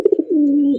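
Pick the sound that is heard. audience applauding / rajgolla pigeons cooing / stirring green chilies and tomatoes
rajgolla pigeons cooing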